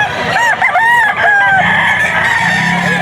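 A hen-feathered gamefowl rooster crows loudly and close at a market in Bocaue, one drawn-out call filling the whole span over a dense background of other fowl.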